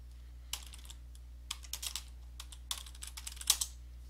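Keys on a computer keyboard clatter in several quick bursts as a command is entered in a SUSE Linux configuration tool, crisp and close with short pauses between groups of strokes and no talking.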